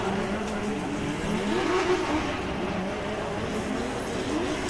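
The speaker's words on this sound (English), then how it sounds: "So we can see Robin Neeson just warming up his tyres, ready for his second run." A drift car at a British Drift Championships pro qualifying round at Teesside warms its tyres, a steady loud engine drone with wavering revs heard from a distance over continuous track noise.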